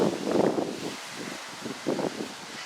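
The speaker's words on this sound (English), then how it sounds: "because it's so windy right now." Wind gusting outdoors in a flower garden, rustling leaves and buffeting the microphone in two strong bursts separated by a calmer lull.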